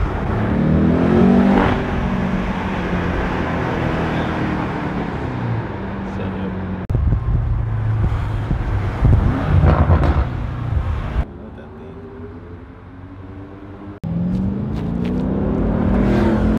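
A McLaren GT3 build car accelerating hard, its engine note climbing and shifting in repeated surges, loud and close from inside the cabin, with occupants talking over it.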